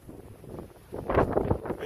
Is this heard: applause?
no